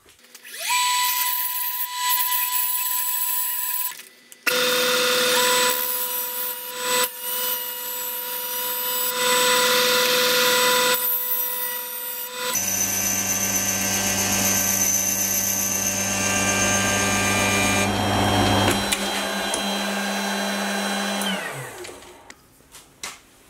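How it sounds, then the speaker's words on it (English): A tool post grinder mounted on a lathe grinds a stone against a silver steel rod, a loud high whine that switches on and off between stretches, joined by a deeper motor drone in the later part before it winds down to stop. "I've loaded the tool post grinder into the lathe, and I'll use a stone to grind a concave face in the end"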